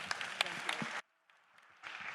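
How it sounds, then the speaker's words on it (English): Conference audience applauding the panelists at the close of a session, a short burst of clapping that cuts off abruptly, then faint room noise before the applause resumes. "Definitely give a bigger round of applause for the panelists."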